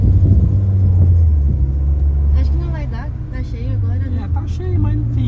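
A Fiat Argo Turbo's engine rumbles low and heavy as the car accelerates hard, a strong drone from inside the cabin that fades slightly while people talk over it.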